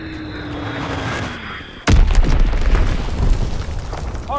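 A bomb explodes in the Call of Duty: WWII game with one sudden loud boom, followed by a long rumbling roar and debris noise that keeps going to the end.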